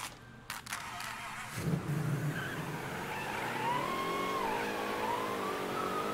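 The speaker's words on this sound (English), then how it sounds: "Get them bias plies all squealing, baby." Bias-ply tires on a Cadillac hardtop in Mafia III squeal in a long, wavering screech as the car revs and skids, loud and sustained after a brief rumble.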